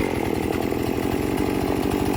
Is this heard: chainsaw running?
yes